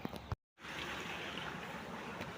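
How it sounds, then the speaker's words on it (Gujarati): Irrigation water flows through a wheat field with a steady, soft trickling rush that runs on evenly after a brief dropout at the start. "આ ઘઉં પાણી ચાલુ હોય."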